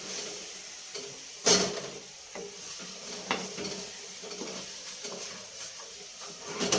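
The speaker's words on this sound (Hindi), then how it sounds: "बाकी चीज़ हम डाल दे रहे हैं और चला देते हैं।" Spices being stirred into besan kadhi in a pot, soft sizzling under scattered scrapes and knocks of a spoon against the pot, one sharp clank near the start.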